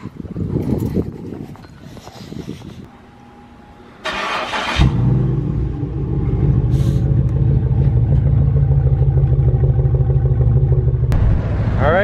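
Car heading to a car meet: a few rustles, then the engine fires and settles into a steady loud drone from inside the cabin, broken by a click near the end.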